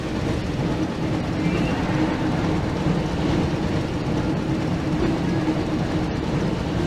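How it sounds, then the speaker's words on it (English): A train rumbling and clattering steadily from the Harry Potter and the Chamber of Secrets PS1 video game, a continuous loud rolling roar with no talk over it. "Looks like we found the train, Ron."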